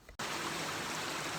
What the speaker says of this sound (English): Alright, I'm standing in the middle of a place called Pixie Falls, and actually I'm in the middle of the stream here.